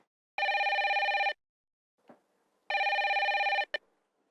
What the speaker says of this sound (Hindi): इतनी रात को कौन बदतमीज फोन कर रहा है?